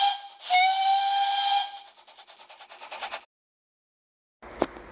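Steam train whistle giving a loud, sustained blast that trails into fading rhythmic hissing puffs, then silence and a short sharp burst of steam at the end.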